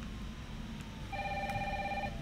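A telephone ringing in the video game Resident Evil 3, a single electronic trilling ring lasting about a second over a quiet low hum, close and clear.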